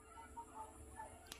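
Soft, scattered chicken clucks come from a little distance, with a sharp brief click near the end. The background is quiet outdoors and nobody is talking.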